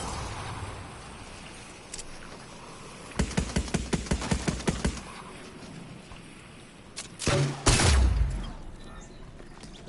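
In a video game, a rapid burst of grenade launcher shots rings out, followed shortly after by a heavier, booming blast against faint background ambience.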